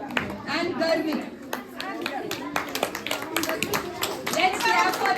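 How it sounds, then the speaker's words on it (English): At a school Environment Day quiz competition, the audience gives the participants a ragged round of close, sharp handclaps that comes and goes, with children's voices and chatter mixed in. "Let's clap for them first."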